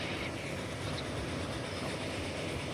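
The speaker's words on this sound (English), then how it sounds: "Here come the trains again." Trains rumble past in the railway simulation game Transport Fever 2, a steady, continuous rolling roar with a low clatter and no voices, heard fairly close throughout.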